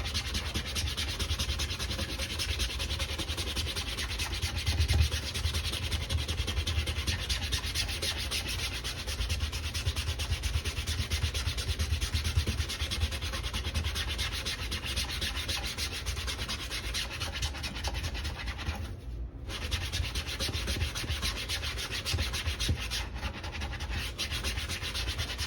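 An Air Jordan 1 Low Starfish sneaker is scrubbed with a brush and cleaning solution, giving a steady close scratchy rubbing that runs nearly unbroken throughout.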